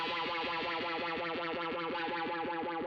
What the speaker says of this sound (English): it adds a lot of distortion to the phaser effect